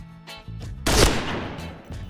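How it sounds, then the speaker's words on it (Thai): A single loud gunshot from the shooter game Point Blank cracks sharply near the middle, standing out over a low background hum of game sound. "เดี๋ยวเพื่อความมั่นใจเราขอยิงนัดหนึ่งนะผมอ่ะน้องเมฆยิงกลับมาครับ"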